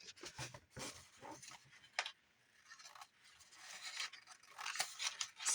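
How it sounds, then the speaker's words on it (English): Scissors cut a piece of file folder with several quiet snips and scrapes, close to the microphone. The snips come irregularly, with soft rustling of the card between cuts. "Let's just cut a piece of file folder."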